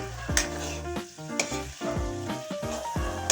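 Onion, garlic and corned beef sizzle loudly in a pan, with repeated close stirring scrapes and clinks breaking over the steady frying hiss.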